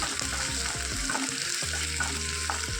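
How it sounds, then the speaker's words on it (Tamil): Onion, green chilli and curry leaves frying in a pan as they are stirred, a constant loud sizzle with occasional scraping strokes of the spoon against the pan. "இப்போ இதை நல்லா கிண்டிக்கோங்க நல்லா கிண்டணும்"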